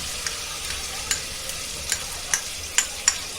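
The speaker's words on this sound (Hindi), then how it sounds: "अब ये अदरक लहसुन का पेस्ट डालेंगे।" Ginger garlic paste sizzling in a pan for biryani, a steady close hiss with a series of sharp rhythmic clicks of a spoon stirring against the pan, about one every half second, no talking.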